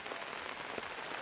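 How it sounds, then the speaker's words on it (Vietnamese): Heavy rain pours steadily in a rural Nghe An village, a dense, even hiss of drops striking surfaces with a few louder close splats, and no voices. "Mưa quá."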